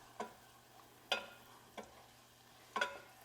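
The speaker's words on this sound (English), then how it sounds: "You just need to stir it until it's nice and combined" A flour and garlic roux is stirred in a pan over a faint steady sizzle, with four sharp spoon scrapes spaced irregularly, close but fairly quiet, no voices.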